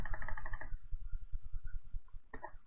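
A quick flurry of close, sharp mouse clicks while playing a digital Magic card game at speed, then a run of soft, even taps and one more short click burst near the end, over low background noise.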